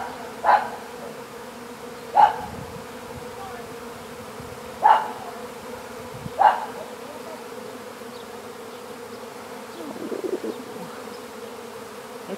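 Bees fly around a hive during a trap-out in poor weather, with several distinct buzzing passes close by over a faint steady background hum.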